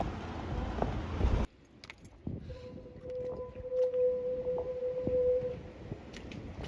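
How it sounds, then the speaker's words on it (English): A lighthouse foghorn at Lizard on the rainy UK coast sounds a steady low tone for several seconds, fairly faint and distant, over wind and rough sea noise. "Who knew that lighthouses made a noise like that?"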